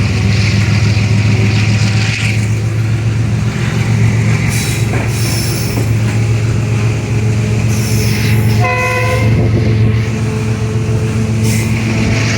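A fast train rushes past loudly at night with a continuous heavy rumble and rattling wagons, and a brief horn blast sounds near the end.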